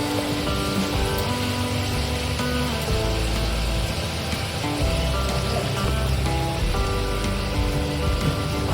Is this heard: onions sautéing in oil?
yes